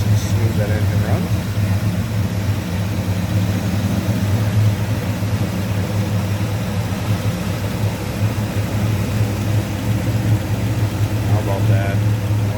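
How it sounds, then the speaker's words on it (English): A 1965 Pontiac GTO with tri-power carburetion idles smoothly under the open hood, a steady low rumble with an even pulse that runs unbroken throughout. "You can hear and see nice and smooth that engine runs."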